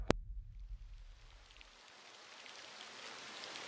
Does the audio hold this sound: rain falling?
yes